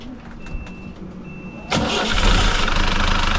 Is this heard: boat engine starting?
yes